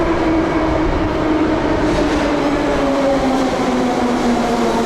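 A metro train runs steadily through Moskovsky metro station, its loud continuous rumble carrying a sustained motor whine that slowly falls in pitch throughout, with no voices.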